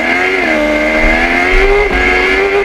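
A car with a mid-mounted Suzuki GSX motorcycle engine accelerates loudly and close, its high engine whine holding and rising with short dips at gear changes, alone with no voices.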